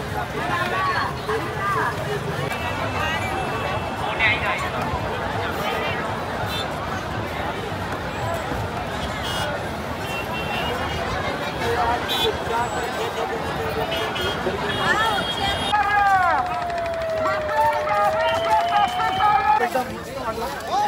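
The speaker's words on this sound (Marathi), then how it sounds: "त्या साईडला पण खूप सारी गर्दी आहे, खूप म्हणजे खूपच गर्दी आहे" A huge crowd at the Maha Kumbh gathering in Prayagraj fills the air with a steady, dense babble of many voices and footsteps. Nearby speech rises above the hubbub throughout, and a brief whistle-like tone sweeps past near the end.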